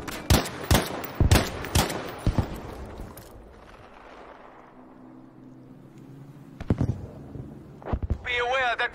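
Battlefield 5 multiplayer combat with rapid sharp gunshots cracking in quick bursts at the start, then a lull of distant rumbling fire before a few more shots ring out near the end.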